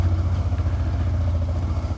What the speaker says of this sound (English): Oh my god, this exhaust sounds glorious down here.